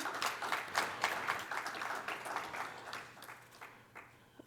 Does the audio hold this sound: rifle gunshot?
no